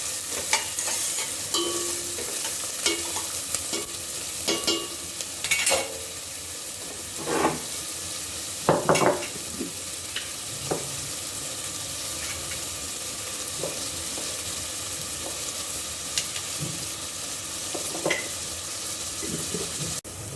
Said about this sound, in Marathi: हा कांदा आपण चांगला परतून घेऊ आता।